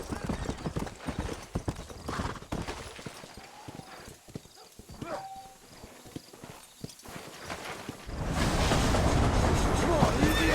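Horses' hooves clip-clop steadily in the Red Dead Redemption game, a western town street with a rhythmic, mid-distance trot and an occasional whinny, ending under louder rolling wagon and ambient noise.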